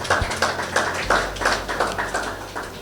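Graduating students clap for themselves at a creative industry talk, a few loosely spaced rhythmic bursts of claps rising and falling over about three seconds, fairly close.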